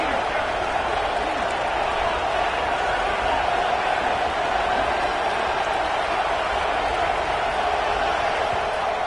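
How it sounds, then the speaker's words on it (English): A packed stadium crowd at an Auburn football game roars steadily, a dense, sustained wall of cheering that never lets up, with a broadcast commentator talking over it. "And the crowd coming to life here, trying to help this defense down in the red zone"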